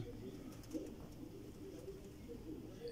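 Pet pigeons cooing softly and continuously as they flutter down to feed. The low, rolling coos repeat throughout against a faint background, with no talking.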